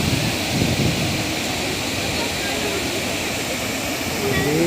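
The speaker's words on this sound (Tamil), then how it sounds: "அருவிட்ட வந்தாச்சுங்க." The Pykara waterfall produces a steady, loud, broadband roar of rushing water that fills the whole scene without pause.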